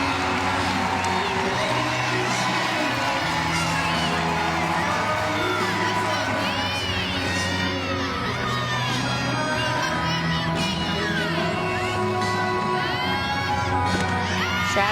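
An away crowd cheers and shouts continuously through a college gymnastics meet at UGA, with loud whoops and yells, a commentator's voice running underneath.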